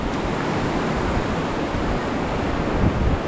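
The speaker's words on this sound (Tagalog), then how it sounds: "Ayun, nandito na naman yung hangin." Strong wind roars outdoors beside a flooded river after a typhoon, a loud, steady broadband rush buffeting the microphone for the whole stretch, with no voices.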